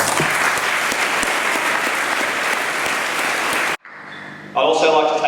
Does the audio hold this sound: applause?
yes